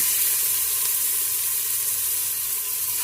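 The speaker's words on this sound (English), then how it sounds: "this is just to, give it a nice sear" Meat sears in hot oil inside an Instant Pot while birria is being made, giving a loud, steady, close sizzle that hisses without a break and without any talk.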